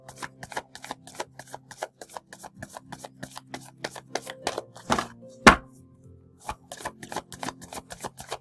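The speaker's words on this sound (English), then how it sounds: "Pulling 1 card" A deck of tarot cards is shuffled in a quiet room, giving a long run of quick, close riffling flicks, then a brief louder snap as one card is pulled, followed by more soft card handling.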